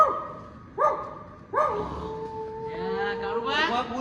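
A dog close by gives three quick yelping barks, then a longer wavering howl that rises at the end.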